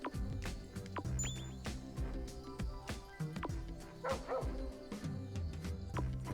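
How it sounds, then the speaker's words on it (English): Dog-like pet voice from the Chibi-Robo video game, a series of short yips and whimpering barks repeating over steady game music at moderate loudness. "Like a dog."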